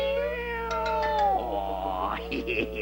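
A cartoon kitten gives a long, wavering meow that rises and falls, followed by short higher mews, close and clear over a quiet background hum.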